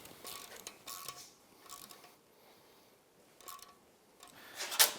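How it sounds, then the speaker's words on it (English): Clamps are tightened on a Yamaha YXZ1000R during a turbo install with a ratchet. The soft, scattered ratcheting clicks come in a few short bursts, fairly quiet and close, with a sharper click near the end. "let's tighten down those clamps."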